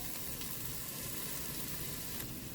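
A Ninja Speedi cooker gives off a steady, even hiss and sizzle close up, with no break and no voices, while a dish of crispy chicken wings and spicy mac and cheese cooks.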